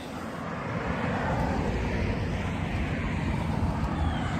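A steady, loud roar of vehicles passing close by, with the engine and road rumble swelling slightly and holding for several seconds.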